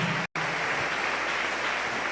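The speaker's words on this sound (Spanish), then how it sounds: "Dele un aplauso al Rey." A church congregation applauds in a brief burst of dense clapping, broken by a momentary dropout near the start, then continuing steadily.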